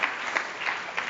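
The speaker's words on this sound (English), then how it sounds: "Round of applause." Audience applause after a talk on social media for the finance industry, a short dense burst of many people clapping, heard alone for about a second.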